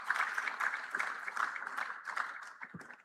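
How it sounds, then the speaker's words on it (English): Moderate audience applause for a speaker at an Africa summit conference, a lively cluster of claps in an uneven rhythm, fairly close, gradually thinning toward the end. "Please, a round of applause for him."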